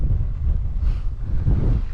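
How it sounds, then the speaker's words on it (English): Heavy wind buffeting a microphone on the Pembrokeshire coast, a loud continuous low rumble with gusty surges throughout. "that's how windy it is"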